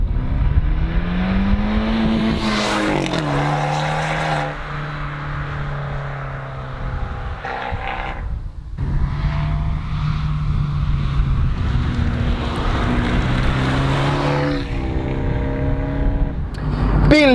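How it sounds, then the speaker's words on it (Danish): An Abarth 124 Spider convertible with its Abarth sports exhaust revs and accelerates hard through rising gears, loud and close, with a brief lift-off pause between pulls and wind rushing past. "så har de vigtigst af alt sat Abarths sportsudstødning på. Og den lyder himmelsk,"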